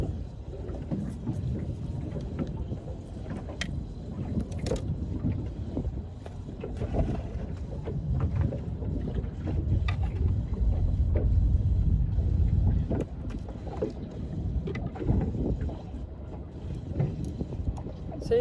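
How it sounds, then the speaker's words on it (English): Strong wind blows over choppy water at La Perouse on Botany Bay, a continuous low rumbling roar with surging gusts that persists throughout. "Very windy, very choppy"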